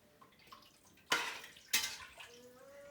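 Liquid poured from cartons into a cooking pot for a soup, heard as two short splashing pours in quick succession over quiet kitchen background, with faint trickling afterward.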